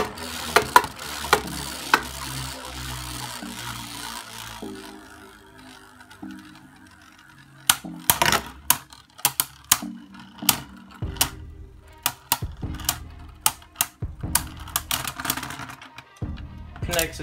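Beyblade Burst tops launched into a stadium and battling, with a dense rattling whirr at the start, then a run of sharp, loud clacking impacts spaced irregularly through the rest.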